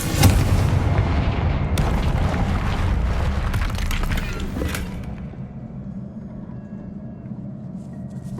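Confringo blasting spell in Hogwarts Legacy erupts in a loud, booming explosion at the outset, followed by crackling debris and a rumbling tail that slowly fades, with a couple of smaller cracks along the way and no speech.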